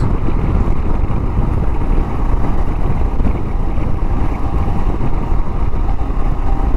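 Steady roaring wind blast mixed with engine drone while riding a motorcycle, loud and continuous throughout with no pauses or clear throttle swells.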